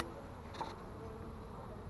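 Honey bees buzz softly around a package being installed into a hive, a faint continuous drone with a brief louder pass of a single bee near the middle.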